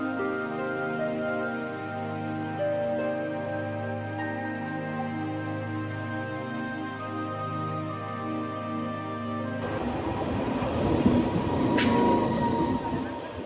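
A passenger train pulling out of Basirhat station, heard from inside, gives a steady low rumble with tonal motor hum, then a louder burst of rattling wheels and clatter as it gathers pace.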